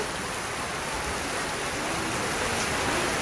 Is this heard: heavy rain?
yes